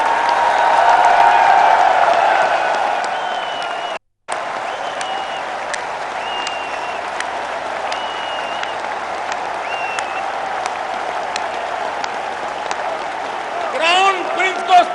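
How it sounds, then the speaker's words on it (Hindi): Sustained audience applause for the Crown Prince at a large public event, steady dense clapping from a big crowd lasting throughout with a brief break partway, with voices audible beneath it. "मैं आज सबसे आग्रह करता हूं, तालियों की गूंज से क्राउन प्रिंस का अभिनंदन कीजिए।"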